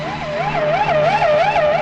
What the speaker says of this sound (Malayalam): ഒരു പോലീസ് വണ്ടിയല്ലേ വരണത്?